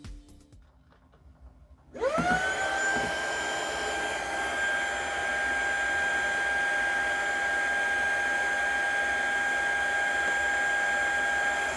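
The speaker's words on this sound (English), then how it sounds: "mandatory sound test to see how loud this portable vacuum is using my decibel meter" A Fanttik Robustclean Slim V8 Apex handheld vacuum switches on at low speed after a quiet room, spinning up quickly into a steady, loud whine with a high-pitched motor tone and airy rush that holds evenly to the end.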